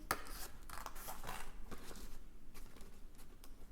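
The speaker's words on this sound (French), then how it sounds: "Je vais commencer par lui découper son petit visage." Scissors snipping through paper to cut out a small face, a few crisp close cuts early on followed by softer, irregular snips and paper rustling.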